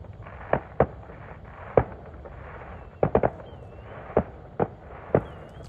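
Fireworks go off outdoors at an autumn campsite by rising water, a series of sharp separate bangs and crackling pops, some in quick clusters, moderately distant, over a steady low background hiss.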